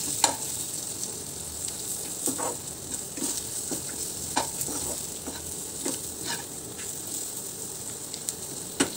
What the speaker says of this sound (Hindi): इन सभी को मिक्स करके हम कुछ देर तक चलाते रहेंगे, जब तक ये मसाले इसमें मिक्स ना हो जाएं।